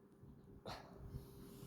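A dog in a video game gives a single short, breathy bark or yip, quiet and brief against a low steady hum.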